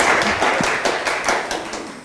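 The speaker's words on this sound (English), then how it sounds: "I do love it when all you've got to do is stand up the front and people clap" Audience at a university distance learning symposium clapping as a presenter stands up at the front, a steady close patter of many hands that gradually thins over about two seconds.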